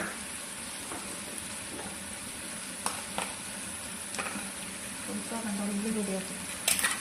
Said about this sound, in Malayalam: ഇത് സൺഫ്ലവർ ഓയിലാണ് ഞാൻ വഴറ്റാൻ നിൽക്കുന്നത്